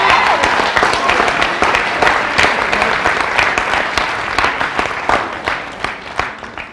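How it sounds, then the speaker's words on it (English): Loud, dense applause from a crowd at a high school spring assembly, continuous clapping from many hands that stays strong before thinning slightly near the end. "Give him a round of applause."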